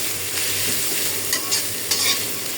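Leafy greens dropped into a pan of frying onion and garlic hiss with a loud, steady, close sizzle, with a few brief stirring scrapes.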